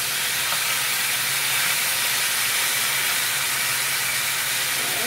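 A London broil steak sizzles steadily in a hot pan just after being flipped, a continuous even hiss with no pauses.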